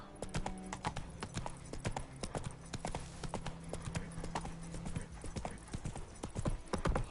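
Roach the horse's hooves clip-clopping at a steady gallop in The Witcher 3: Wild Hunt on PS5, a dense rhythmic run of sharp hoofbeats, fairly quiet and unbroken by talk.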